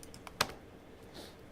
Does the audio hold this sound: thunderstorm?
no